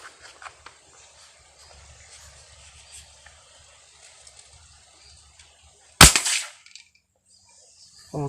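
A single sharp crack from an SS Tactical Primer V3 foam dart blaster, a PVC-pipe build, fired once at close range after a stretch of quiet handling and faint background noise, followed by a short click.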